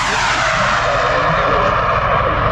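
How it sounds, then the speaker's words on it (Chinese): Rocket motor of a rocket-assisted 155 mm howitzer shell in flight gives a loud, sustained, sharp roaring hiss that fills the whole moment steadily without a break. "这就表示它的这个火箭发动机正在工作。"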